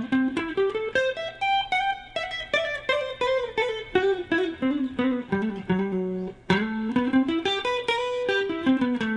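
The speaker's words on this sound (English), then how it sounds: "Why don't I blast that minor 9 arpeggio?" A minor 9 arpeggio is played on electric guitar from the root A, with fast, articulate notes climbing and falling in a continuous run. It is heard up close with no voices and has a brief dip partway through.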